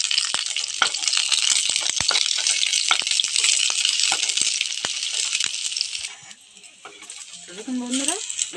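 Eggplant frying in oil in a pan for a Bengali fig shukto, a steady close hiss and sizzle with scattered crackles and pops, thinning out near the end as utensil clinks and brief sounds come through.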